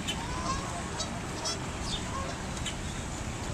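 Ducks honking in an outdoor park, several short nasal calls scattered across a steady background of ambient noise, moderately distant with no clear talk.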